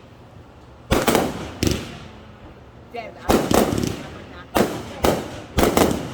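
Fireworks at a July 4 show burst in a series of six sharp, loud booms, spaced roughly a second apart, with people chatting and a voice between the blasts.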